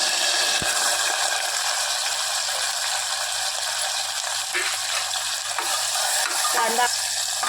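Onion frying in a pan with spice paste for a tondli (ivy gourd) masala curry, a steady close broadband sizzle throughout with a few stirring knocks and scrapes, no voices.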